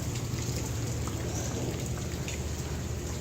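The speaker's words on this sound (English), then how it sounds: "Oh, the rain is let up some." A heavy rainstorm easing off: a steady, dense hiss of rain falling on surfaces, with a low rumble underneath, continuous and even throughout with no voices.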